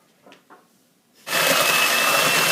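An electric mixer starts up abruptly after a couple of soft knocks and whirs loudly and steadily, creaming butter and sugar for a frangipane apple tart filling.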